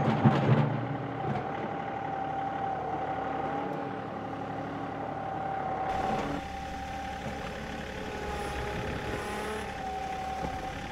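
A tractor engine hums steadily at a low pitch, with a shift in tone partway through as it keeps running.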